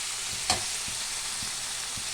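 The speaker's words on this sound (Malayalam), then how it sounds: "ഇനി നമുക്ക് ഇതിനായിട്ട് വേണ്ട തേങ്ങയെ ഒന്ന് വറുത്തെടുക്കണം." Grated coconut dry-roasting in a pan on the stove, giving a steady soft sizzle with a few stirring scrapes and one brief louder knock near the start, with no talking.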